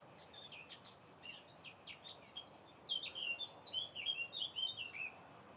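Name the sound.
bird calling outdoors during grilling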